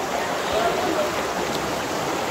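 A river where people are soaking, its water rushing in a steady, close, broadband wash that stays constant throughout, with no clear voices over it.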